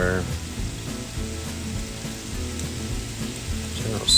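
Ribs stir-frying in black bean garlic sauce give a steady, soft sizzle that runs the whole time beneath a louder bed of background music.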